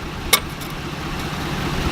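A Mercedes engine that burns a lot of oil, idling at a low steady rumble nearby with a possible faint knock, broken by one brief sharp click and no talk.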